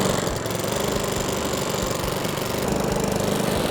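A brand-new Cobra M40C petrol lawn mower engine runs steadily at close range, a dense, loud, even chugging drone with no voices over it.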